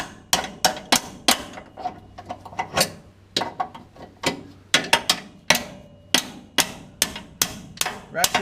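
A ratchet wrench is used as a hammer on a first-generation Dodge crew cab truck during an engine pull, giving a string of loud, sharp metallic whacks in uneven rhythm, close up, with faint clanks between blows.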